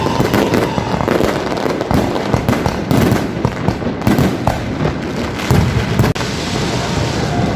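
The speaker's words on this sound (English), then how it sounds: "we even got an unexpected firework display." An unexpected fireworks display bursts loudly and without pause beside a Bangkok riverside hotel, a dense crackling barrage of pops and booms layered over one another, with no talk.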